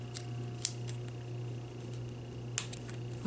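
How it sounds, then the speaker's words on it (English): A pair of scissors snips a PET sticker butterfly, trimming the antenna straight off; a few sharp, quick clicks stand out against a steady low hum in a quiet room, with no talking. "I'm gonna cut this straight off"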